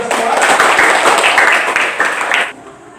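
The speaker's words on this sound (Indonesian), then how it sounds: "Mari kita tepuk tangan untuk kita semua." Students clap together in a classroom, a dense, steady burst of applause lasting a couple of seconds before it cuts off abruptly.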